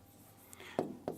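A capital letter M being written by hand: two short, close scratchy strokes follow a faint rub, quiet and brief against a low background hum.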